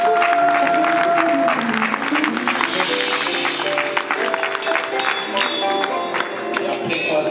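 A church congregation claps and cheers to encourage a pastor at a tribute service. Loud, dense applause runs throughout with a musical tone and voices mixed underneath.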